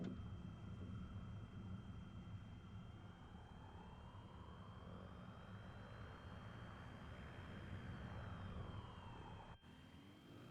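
A small plane rolls out after landing and taxis at Lassen Volcanic, its steady propeller-engine drone loud and close for about ten seconds, with a brief dip near the end.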